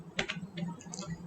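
A handful of quick, faint keystrokes tap on a computer keyboard while someone types out a line of HTML code, a short, soft burst of clicks.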